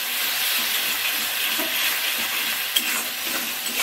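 Turmeric powder, chilli powder and ginger paste fry in oil for a rui fish curry, crackling in a close, continuous sizzle with faint stirring knocks and no speech.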